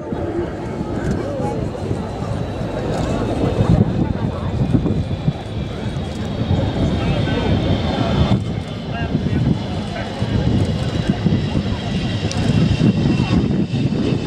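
A jet aircraft lands at the Wings & Wheels airshow at Dunsfold in 2013: a loud, continuous engine roar with rumbling turbulence, heard under a commentator's voice over the public address.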